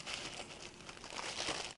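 Decorative printed tissue paper is handled and crinkled close by, a soft continuous rustling with small crackles, quiet and alone without any talk.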